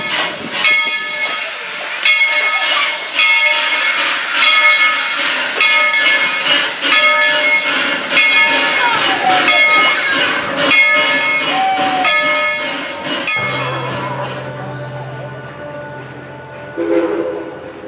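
A narrow gauge steam train on the Tweetsie Railroad theme park line chugs along with steady hissing steam and a long, piercing whistle that sounds repeatedly, loud and close.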